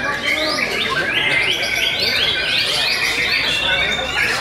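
Canaries chirping and trilling nonstop at close range, with loud, bright, rapidly repeating song phrases layered over a busy gathering of bird keepers.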